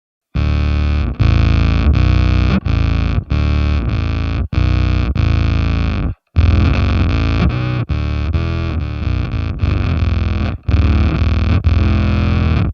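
Bass guitar through an EHX Micro Synth pedal into an Ampeg SVT4 Pro amp model on a Line 6 Helix: loud, buzzy synthesized notes played in a choppy rhythmic line, each note cut off sharply, with a faint clean tone underneath.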